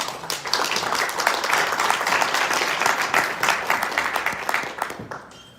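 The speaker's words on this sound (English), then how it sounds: "So please give a warm round of applause for Mr. JB." Sustained applause from a conference audience at an urban planning event, dense steady clapping filling the room for several seconds before starting to thin out near the end, with no talking over it.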